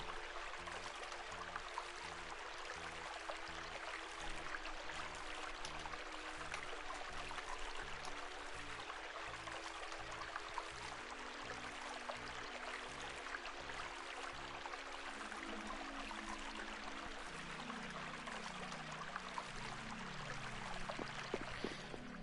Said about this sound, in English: I love the sound of water, do you?